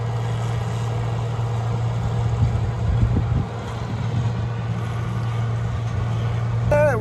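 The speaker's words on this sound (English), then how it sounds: "Gotta love the sound of that motor, though. Those Hercules are cool motors." Hercules engine of a White 2-135 tractor running steadily while mowing hay in central New York, a constant low drone with rumbling surges, heard from nearby with wind noise.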